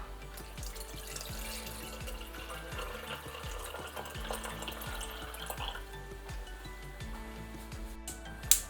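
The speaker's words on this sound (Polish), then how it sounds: "I całość zalewamy wodą." Water is poured into a pot over ginger, orange slices and cinnamon to make winter tea, giving a quiet, continuous trickling and splashing with small bubbling pops throughout, and a brief clink near the end.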